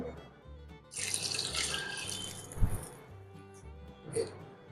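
Water pours from a tap into a pot of dhal for about two seconds, with a clunk midway and a short splash later, amid faint background music.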